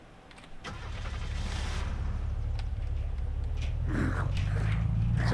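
A truck engine in the Unturned video game cranks and catches at about half a second, then settles into a steady, loud idle that holds close for the rest of the clip, with no talking.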